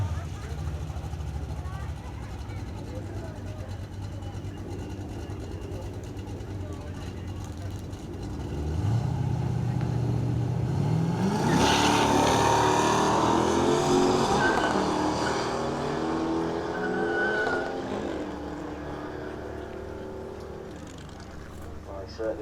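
A drag racing car makes a run at Melbourne Raceway in York, its engine rising from a distant idle to a loud, building roar that sweeps past and fades, while an announcer talks over the scene.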